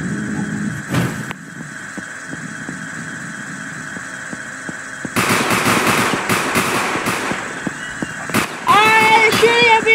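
Video game gunfire during a store robbery, a burst of rapid sharp cracks arriving in clusters after a quieter stretch, loud and close.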